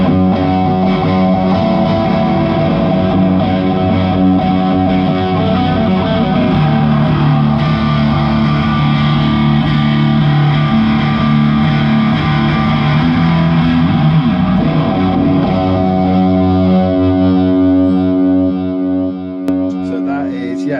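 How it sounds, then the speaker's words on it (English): A distorted electric guitar drones thick and loud through a delay effect, sustained chords smearing and echoing over about twenty seconds as part of a stoner rock band's pedal rig. "That delay sound there, absolutely lovely."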